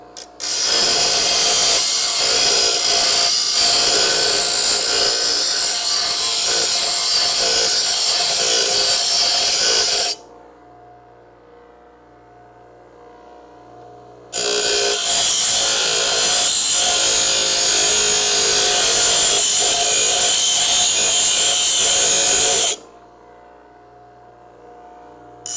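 Coarse abrasive sanding on a steel rear frame rail of a Crew Cab Charger, heard as two long, loud, steady grinding passes with a short quiet pause between them.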